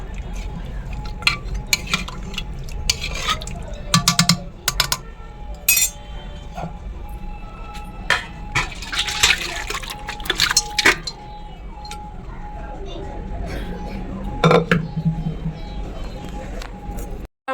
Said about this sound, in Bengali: গরম মশলাটা দিয়ে আমি একবার নাড়াচাড়া করে গামলাতে ঢেলে নেব